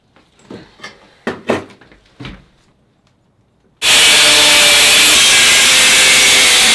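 A power tool cuts through a bicycle's metal cross piece in a home workshop, a loud steady grinding roar that starts abruptly and runs on continuously after a few short knocks and bumps.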